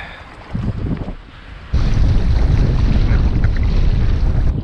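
Wind gusts over a fishing boat out on the water, rumbling low and buffeting the microphone, then growing into a stronger, steady roar partway through.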